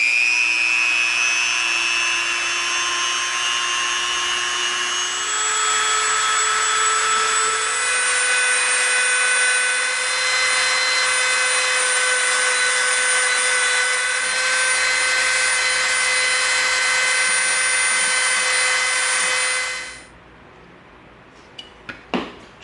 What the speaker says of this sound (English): Dremel all 4 sides off so that it's round.